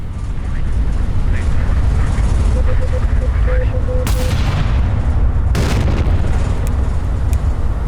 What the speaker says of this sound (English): my guns are actually firing